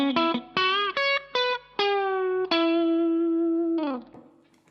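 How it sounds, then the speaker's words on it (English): Electric guitar playing a country lick over a G form chord, a quick run of plucked notes with hammer-ons and slides ending on a sustained ringing note, close and clean with a light effect, no voices. "The lick that we're going to learn to play over our G form chord is going to sound like this"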